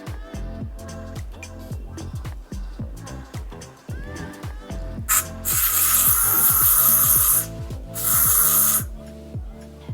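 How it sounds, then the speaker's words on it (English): Hairspray hisses from an aerosol can onto freshly cut, layered fine hair during a home haircut. Two loud, close bursts of spray stand out over a busy run of rapid mechanical clicking. "I used a little bit of hairspray just to give my layers a little bit of like texture and movement."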